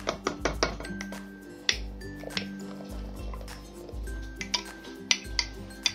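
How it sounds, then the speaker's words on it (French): Cream is poured and stirred into hot broth in a cooking pot for a pork and beef stroganoff, giving close wet sloshing and dripping with intermittent clinks of a utensil against the pot, and no talking. "Je vais verser ma crème dans le bouillon chaud."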